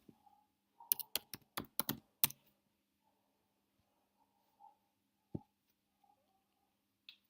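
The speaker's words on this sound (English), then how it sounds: "when I type Homo sapiens" Quick keystrokes on a computer keyboard enter the search term Homo sapiens: a close burst of about eight crisp clicks, then a quiet pause with a few scattered single taps.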